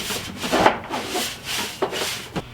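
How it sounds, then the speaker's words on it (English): A dish towel scrubs a surface after a red wasp nest has been removed, giving short close rubbing strokes in a few uneven bursts with no talking. "I'm just going to scrub this with a dish towel and clean it up real good"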